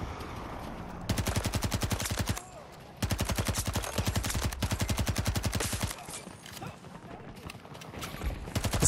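PP-2000 submachine gun firing in Battlefield 2042, loud rapid full-auto bursts of a few seconds each with brief gaps, close and dominant over game background noise, with a player talking now and then.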